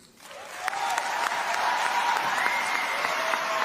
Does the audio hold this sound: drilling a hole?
no